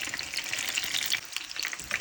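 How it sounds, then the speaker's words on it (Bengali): Snacks frying in hot oil until golden brown, giving a close, continuous sizzle with bright bubbling crackles and no voices. "গোল্ডেন ব্রাউন করে ভেজে নিচ্ছি এখন এগুলোকে তুলে নেব"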